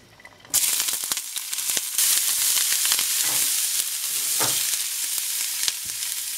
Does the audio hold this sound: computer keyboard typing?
no